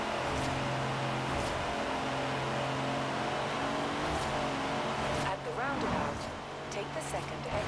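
Hummer H1 engine roaring in a Forza Horizon 4 pavement race, a steady loud drone with passing surges and a brief swoosh near the end, with voices over it.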